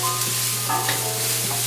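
Onions seasoned with salt and pepper fry in a pan, giving a steady, dense sizzle with faint stirring knocks, close and fairly loud throughout.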